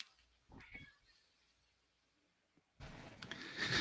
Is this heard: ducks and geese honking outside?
no